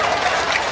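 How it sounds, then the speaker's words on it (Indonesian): A short burst of audience applause during an Indonesian religious lecture, a brief dense patter of clapping from a gathered crowd, fairly loud and close. "tepuk tangan"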